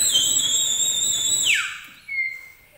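A sheepdog whistle blown in a long, steady high-pitched tone that slides downward near the end, followed by a shorter, quieter blast, close and clear with no talk.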